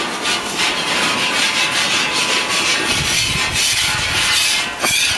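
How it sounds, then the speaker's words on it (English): A tool rasps steadily against metal fence poles to strip off rust, producing a continuous, close, gritty scraping sound with no pauses. "why are you scraping? To get the rust off."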